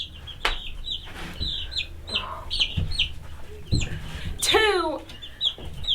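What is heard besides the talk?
chickens clucking, meat birds and layer chicks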